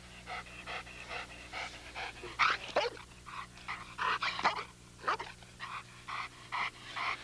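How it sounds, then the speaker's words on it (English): An American pit bull terrier pants hard in rapid rhythmic bursts with low growls mixed in during bite work training, close and fairly loud over a steady low background hum. "You notice how the dog stays focused on her job."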